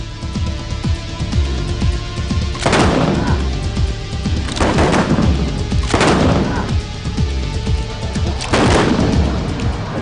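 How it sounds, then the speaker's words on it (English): Guns fire in a series of loud, booming reports, four heavy blasts with rumbling tails spaced a couple of seconds apart over a continuous background rumble. "The gun they're firing."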